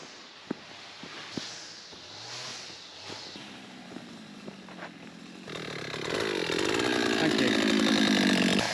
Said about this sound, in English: There's the sound of a strimmer ahead.